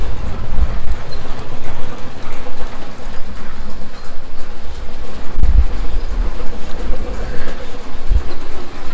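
Brunswick bowling pinsetter in a garage bowling alley running its turret mechanism, a loud continuous mechanical clatter and rumble with steady rhythmic knocking throughout.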